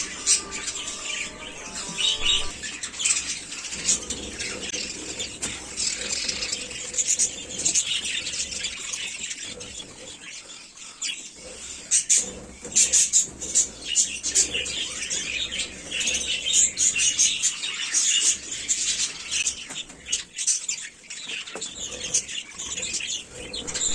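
Budgerigar chicks about 25 days old chirp and squawk continuously in a noisy chorus, with occasional wing flutters, close and loud throughout.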